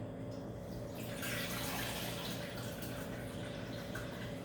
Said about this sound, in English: now we get to fill our water tank